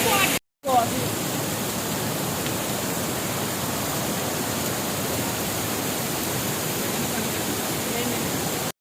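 A roaring waterfall on a mountain trail, heard nearby as a loud, steady, broadband wash of falling water that continues unbroken after a brief cut near the start.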